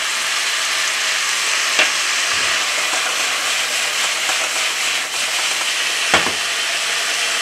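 Chicken sizzles steadily in a hot pan after fish sauce is poured over lightly caramelized sugar, with corn and basil in the dish; a loud, continuous frying hiss with a couple of sharp crackles, no voices.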